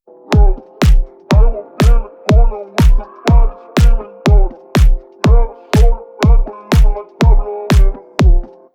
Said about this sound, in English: here's our kick and our clap combo with the acapella